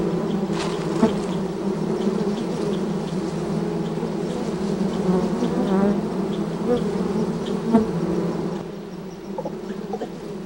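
Bees buzz steadily around a black bear raiding honey in the wild, a dense, continuous insect drone holding close and loud throughout with no voices.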